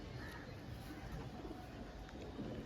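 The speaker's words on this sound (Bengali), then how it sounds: "পুরো একদম সেট জোড়া আছে পায়রার দুটো মনে হয় পায়রা একদম পুরো ফ্রেশ পায়রা আছে" Pigeons at a market give low, soft coos beneath a steady murmur of background noise, faint and somewhat distant.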